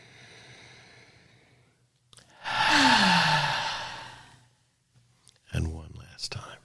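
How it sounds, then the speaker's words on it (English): A deep breath drawn during a group breathing exercise at a community meeting: one long, airy inhale swells in the middle and fades, and a voice starts speaking briefly near the end. "Breathing in again."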